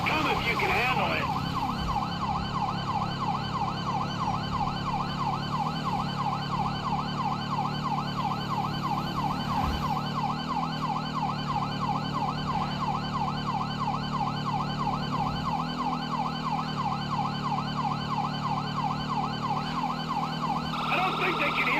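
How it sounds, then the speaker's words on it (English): A police siren wails continuously in a car racing video game, loud and close with a fast regular warble over engine hum. "I don't think they can hear the sirens."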